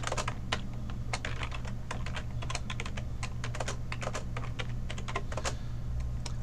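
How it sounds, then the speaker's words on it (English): Typing on a computer keyboard in a steady flurry of close, crisp key clicks, with irregular bursts and short pauses over a faint background hum. "Let me type this in first,"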